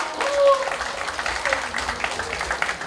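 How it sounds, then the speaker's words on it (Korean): Applause from an audience at a plaque award ceremony during a dance club festival in Seoul, a fairly steady patter of many hands mixed with a murmuring crowd and a faint tonal note. "박수 한번 주세요."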